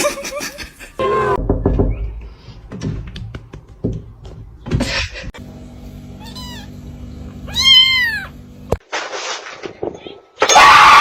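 Cat meows rise among noisy bursts, bangs and excited voices, with a few clear wavering meows standing out near the middle.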